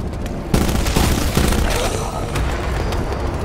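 Gunfire in Black Ops 4 Hellcatraz Gauntlet mode, a dense run of loud shots and booms layered over continuous game noise, with a few sharper blasts standing out early on.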